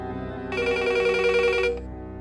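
A telephone rings once in a steady electronic burst over a sustained musical background.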